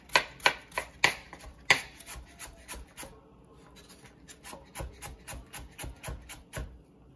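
A knife slices vegetables on a cutting board in a home kitchen where Vietnamese crepes are made, giving close, crisp chops in a steady, fairly quick rhythm of about twenty strokes.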